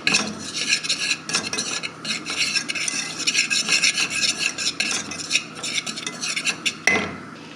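Flour stirred and scraped in a dry pan for a sweet potato dessert, with rapid rasping and rubbing strokes in an uneven rhythm and occasional utensil knocks against the metal, loud and close with no voices.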